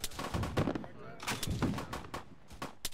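Gunfire in a military video game: a run of sharp cracks and booms, several close and loud, others more distant, scattered irregularly over a few seconds.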